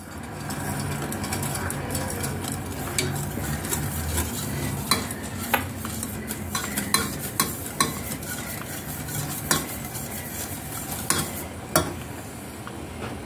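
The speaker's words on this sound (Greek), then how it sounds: "Δουλεύουμε με το σύρμα. Καλά καλά να διαλυθεί το κακάο." A wire whisk works through pastry cream with cocoa in a bowl, making a continuous soft scraping churn with sharp clinks against the bowl's side that grow more frequent toward the end.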